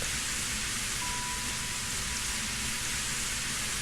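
Heavy rain pours steadily through a dark forest in a video game, a dense, even wash of hiss with no letup across the whole stretch and no voices.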